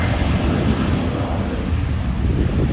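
Southwest airliner taking off at an airport, a steady loud broadband engine roar from a distance mixed with wind buffeting the microphone, no talk.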